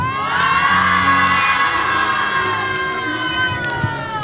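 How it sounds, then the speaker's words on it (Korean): Crowd at a Hongdae street performance by the dance team MYM cheers and shouts loudly, a continuous wall of excited voices with some whoops and clapping, sustained throughout. "박수 주시면 감사할 것 같습니다"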